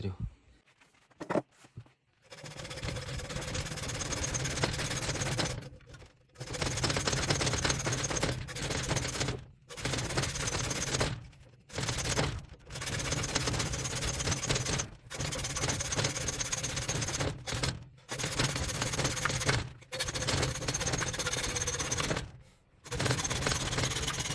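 Hacksaw cutting through a hardened grade 10.9 steel bolt 14 mm thick, with rapid, rasping back-and-forth strokes in long runs broken by short pauses, close and fairly loud.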